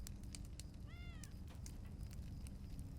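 A black cat in the video game Lord of the Rings Online gives one short, faint meow over a constant wash of game ambience.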